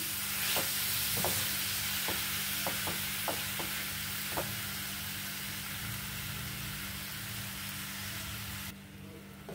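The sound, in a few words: jaggery melting on low flame, stirred occasionally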